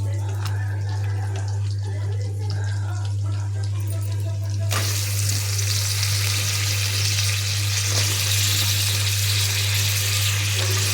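Pieces of bottle gourd and drumstick fry in oil with turmeric, giving a steady loud hiss and sizzle that swells when the vegetables go in partway through, over a constant low hum.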